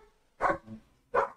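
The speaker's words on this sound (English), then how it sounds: "The dogs are going crazy." Dogs barking close by, two loud sharp barks about three quarters of a second apart with a softer grunt between them, in an otherwise quiet indoor setting.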